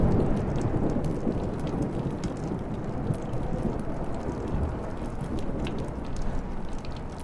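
A stormy scene in the video game Life is Strange, with dense hissing rain and rolling thunder rumbling continuously, loud and close, steady throughout with no voices.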